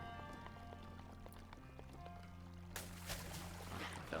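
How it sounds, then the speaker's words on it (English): In The Legend of Zelda: Breath of the Wild, a character falls into water with a sudden, broad splash and sloshing. Soft tonal game music plays beforehand and continues beneath the splash. "Fell into the water."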